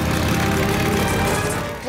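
A motor rickshaw's engine runs in a steady, loud, close drone with a rough buzzing idle, continuous throughout.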